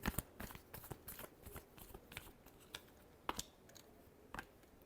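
Tarot cards being shuffled by hand, a quiet, close series of irregular crisp riffling clicks and flutters.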